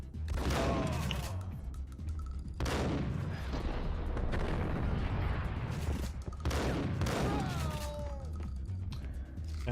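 Bursts of gunfire in the Max Payne video game crack loudly in three heavy volleys, with rapid shots and ringing echoes between them, close and dense.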